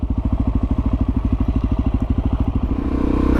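A Suzuki DRZ400SM single-cylinder supermoto engine runs close by with a steady, fast, loud thumping pulse. Around the end the rhythm shifts slightly, as if the revs change.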